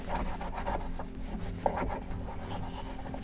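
Quiet scraping and rubbing on a third-generation Toyota 4Runner door during a plastic moisture and weather barrier repair, a faint, steady rasp with one brief sharp tick partway through.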